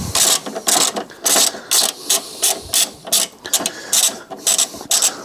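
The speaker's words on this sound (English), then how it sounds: "you just get your 13mm socket on there" A ratchet with a 13mm socket works loose a battery tray bolt on a Fiat 500, giving rapid rhythmic clicking bursts in steady repeated strokes, close and loud, with no talk.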